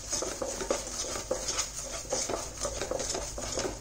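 Spoon stirring a thickening sugar and milk mixture in a pan over a medium-high flame while cooking Kathiyavadi thabdi peda, giving a steady scraping and patting texture with repeated soft clinks throughout.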